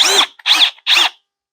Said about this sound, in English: Drill pilot hole.